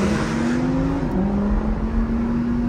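A Lamborghini engine revs through a downshift, holding a loud, steady drone whose pitch dips briefly midway before settling back, with no talk over it.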